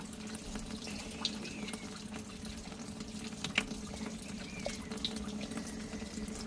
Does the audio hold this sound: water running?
yes